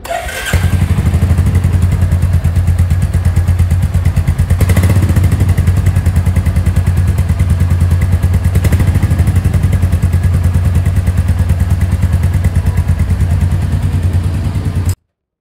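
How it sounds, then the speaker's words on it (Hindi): Royal Enfield Meteor 350 motorcycle idling, its single-cylinder exhaust giving a steady, loud, rhythmic thump close to the microphone for the whole stretch, with a few brief clattery accents and no talking. "अब मैं आपको इसकी एग्जॉस्ट साउंड चेक कराऊँ कि रॉयल इनफील्ड मेटियोर की कैसी एग्जॉस्ट साउंड है।"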